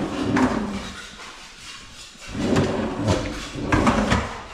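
A handleless drawer in a newly finished kitchen cabinet is pulled open from underneath, giving several soft sliding scrapes and light wooden knocks in short bursts, close by in a quiet room.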